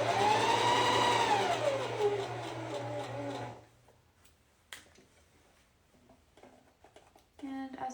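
A sewing machine runs at a steady whirring hum for about three and a half seconds while it sews a gathered bodice, then stops and leaves soft handling noises and a brief restart near the end.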